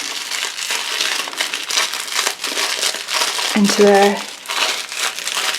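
Plastic bead packets from a diamond painting kit crinkle and crackle up close as they are folded back up, with a person talking briefly over the rustling.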